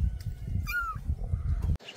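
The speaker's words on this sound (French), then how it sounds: "c'est des petits chats qui sont là" A kitten gives a single short, high meow midway, close by, over low rumbling background noise, followed by a brief sharp cut.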